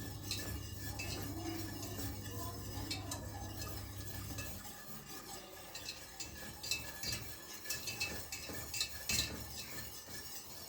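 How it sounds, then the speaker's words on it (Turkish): A spoon stirs a mixture in a pot on the stove to keep it smooth, with continuous scraping and occasional clinks against the metal, close and moderately quiet over a low hum that drops away midway. "Şimdi bunu ben kaynayana kadar karıştıracağım ki pütürlenmesin"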